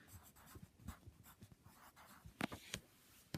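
A pen writes a fraction on paper with quick scratchy strokes and taps, close and quiet, in an uneven stop-start rhythm.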